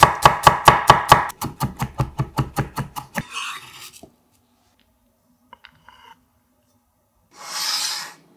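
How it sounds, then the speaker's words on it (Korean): Two whole garlic cloves being chopped coarsely: a fast, steady run of sharp, close knocks for about three seconds, then near silence broken by a few faint taps and a brief soft rustle. "빠질 수 없는 통마늘 2개는 살짝 굵게 다져주세요."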